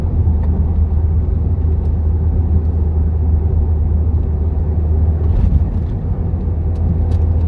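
A Toyota Yaris with an upgraded limited-slip differential drives at 45 over a bumpy road, giving a steady close engine drone and tyre rumble, with a few sharper knocks from bumps toward the end and no talking.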